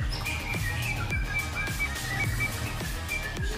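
A young white-rumped shama sings a series of whistled, chirping phrases over a steady low background hum, repeating short notes at a moderate pace.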